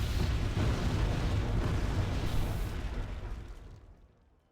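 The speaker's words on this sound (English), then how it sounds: "These mortars are probably going to be a pain." Mortar shells bursting in the Wargame AirLand Battle strategy game, a dense, sustained rumbling wall of blasts that holds loud for a few seconds before fading out, with no voices.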